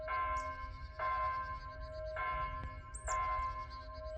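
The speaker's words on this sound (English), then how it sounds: "You hear these bells? They are digital" Digital church bells ring from a cemetery chapel, sounding four clear repeated strokes about a second apart, each tone sustaining and overlapping the last, moderately loud with no talk.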